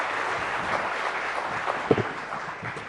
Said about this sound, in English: She deserves a bigger round of applause and welcome.